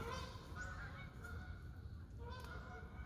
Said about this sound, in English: There's a big flock of geese going over right now.